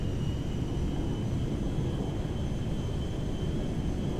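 Air Force One jet engines at full power on the runway in GTA 5, a steady loud roar and rumble with a faint high whine, unbroken throughout.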